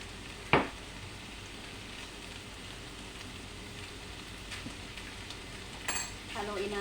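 Chicken keema being stirred in a pan with oyster sauce, a soft continuous sizzle and shuffle with a sharp clank of a utensil against the pan near the start and faint scraping later.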